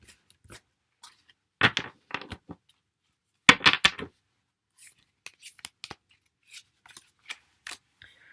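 Tarot cards being shuffled and drawn: brief papery riffles and flicks in two short clusters, followed by scattered soft taps and slides of cards, close and quiet with near silence between.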